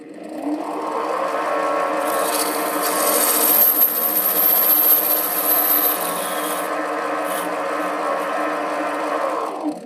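A 7x16 mini lathe motor runs steadily while the cutting tool shaves a bevel into the workpiece, a loud continuous whirring with a grinding, rasping cut layered on top in the middle.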